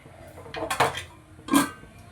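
A metal lid set onto a cooking pot of fenugreek leaf stir-fry, giving a few close clanking clatters of metal on metal in quick succession.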